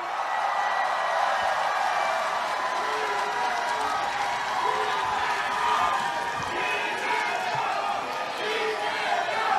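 A large outdoor crowd at a political rally in Busan cheers and applauds as a candidate is called up to speak, a sustained roar of clapping, whoops and chatter that stays loud throughout.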